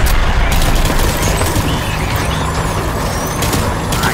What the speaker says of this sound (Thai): เยอะเอาปืนยิงเลย